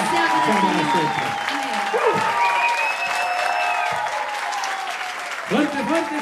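Loud applause from an audience at a Christian singing festival in Coquimbo, a continuous roar of clapping over several seconds with a voice talking over it and brief tonal sounds rising through the middle.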